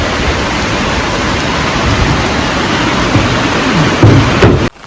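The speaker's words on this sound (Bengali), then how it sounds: "বৃষ্টি তো মনে হয় এটা ছাড়বো না, টিপটিপানি বৃষ্টি" Steady, loud rain with thunder hisses continuously with a low rumble underneath, cutting off abruptly near the end.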